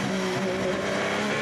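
Formula 1 race car engine heard onboard at the 2015 Russian Grand Prix, a loud sustained high-revving drone with steady pitch throughout, no voices.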